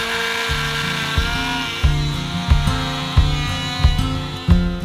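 A power tool cuts into sailboat fiberglass with a grinding, buzzing whine broken by repeated rhythmic bursts of heavier cutting, about one a second, close and fairly loud.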